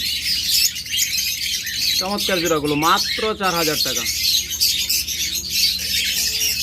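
Caged lovebirds or budgerigars offered for sale chirp and twitter steadily in the background, a busy mix of small bird calls while someone talks over them.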